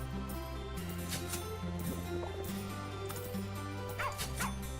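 Video game dog barking in Plantera, a few short yips over a steady layered game music bed, mid-level with no talk.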